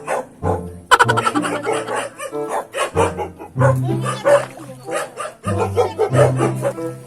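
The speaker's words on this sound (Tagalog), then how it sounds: "Gagalit na po mga aso." Several dogs bark loudly and excitedly close by, overlapping yips and barks in rapid bursts with brief pauses between.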